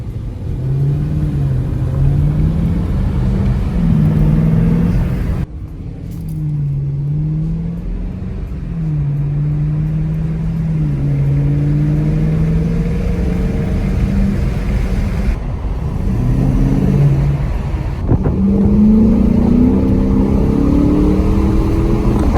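A 2016 Dodge Challenger R/T V8 fitted with a cold air intake, its deep engine tone rising and falling through repeated loud revs and accelerations, with brief lifts between pulls and no talk.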